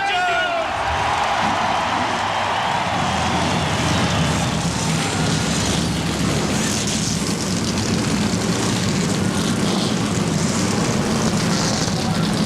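Thirty-two NASCAR Winston Cup stock car racing engines fire up together at Bristol, a dense, continuous loud roar that swells in the first seconds and holds steady, with crowd noise blended in.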